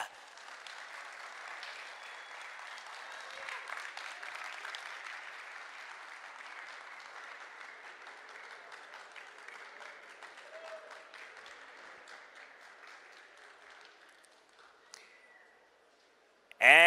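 A large crowd at an eFootball World Cup final in Riyadh applauds and cheers steadily for several seconds, a dense wash of clapping that tapers off before a sudden loud burst at the end.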